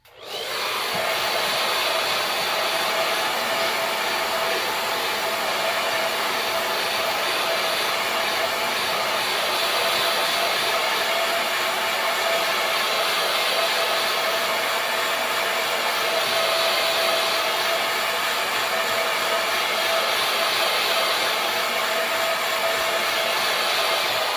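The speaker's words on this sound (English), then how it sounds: "I'm going to dry these really quick. Make sure this is somewhat set. There's a lot of paint on here." A hair dryer blows steadily for about 24 seconds to dry heavy paint on a door tag, a loud, close, even whine and rush of air with no pauses and no voices.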